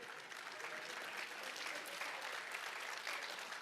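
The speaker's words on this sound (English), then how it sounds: "Now, y'all are clapping and laughing" A church congregation claps and laughs together, a dense, even wash of applause from a sizeable crowd heard at a distance, steady throughout without a break.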